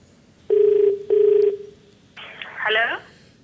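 Phone call placed from the Kaun Banega Crorepati studio: two loud, close ringback tones in quick succession, then a short burst of garbled line noise as the call connects.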